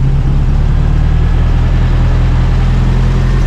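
Toyota truck engine running just after a bodydrop build, a loud, steady, close low-pitched idle with an even rumble and no talking over it.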